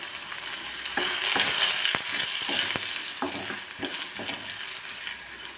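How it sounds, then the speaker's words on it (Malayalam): Cumin seeds and crushed garlic sizzle in hot oil in a pan for a palak and potato curry, a loud, close, continuous crackle with a few stirring knocks and no voices. "എണ്ണ ചൂടാവുമ്പോൾ അതിലേക്ക് കുറച്ച് ജീരകം ഇട്ട് കൊടുക്കണം"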